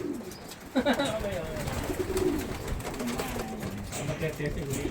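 Racing pigeons in a loft give soft, repeated cooing close by, with a few brief rustles, while people talk throughout.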